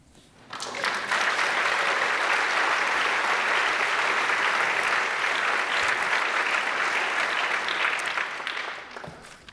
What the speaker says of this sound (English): I know you're clapping mostly because he said final.